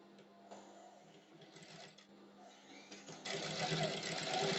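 A sewing machine stitches a shirt collar, starting with soft intermittent clicks, then running into a denser, louder steady whir in the final second and a half.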